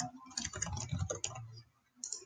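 Rapid typing on a computer keyboard, a close, quiet run of soft clicks and taps in an uneven rhythm, pausing briefly before a final burst of keystrokes.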